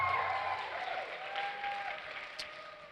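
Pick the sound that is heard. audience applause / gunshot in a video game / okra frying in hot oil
audience applause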